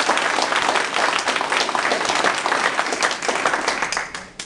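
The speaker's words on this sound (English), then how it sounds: "if we could have one round of applause for all of our candidates" An audience at a political candidates' forum claps a single round of applause, loud and close with a brisk, dense patter of hands that tapers off near the end.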